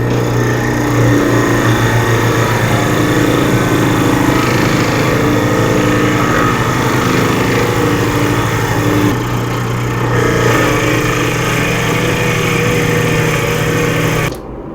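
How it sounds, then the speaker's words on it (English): Steady whining machine drone of a drill bit in a Jacobs chuck boring into a black walnut crotch bowl blank on a lathe, continuous and fairly loud for the whole stretch, ending abruptly. "I'm just going to use the Jacob's chuck and the drill bit"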